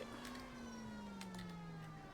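A police car siren from a video game set in 1947 wails steadily and loudly, its tone gliding slowly downward over a couple of seconds, alone with no talk.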